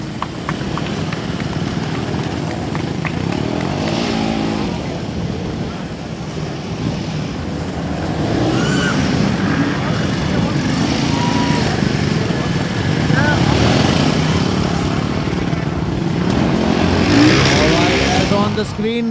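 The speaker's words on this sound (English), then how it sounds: "Your leader, Mutib Zoheb, competition number 63 is on your screen on the beautiful black Himalayan." A black Royal Enfield Himalayan motorcycle ridden in a Motoverse 2024 competition revs and rasps steadily in the background while a commentator talks over it throughout.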